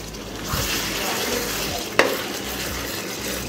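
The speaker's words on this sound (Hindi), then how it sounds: "अब इन सबको अच्छे से मिक्स कर दूँगी" Spices fry in a pan for Punjabi chicken masala pulao as they are mixed, a steady close hiss with a soft stirring swish and one sharp knock of the spoon against the pan.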